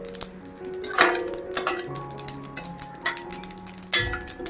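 Niger seeds roasting in a pan on a low flame bring light clinks and scrapes of metal against metal, irregular and close up, with a few louder knocks and no voices.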